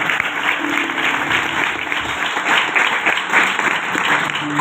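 A church congregation claps in sustained applause after a prayer, a dense, steady roar of many hands at fairly close range with no talking over it.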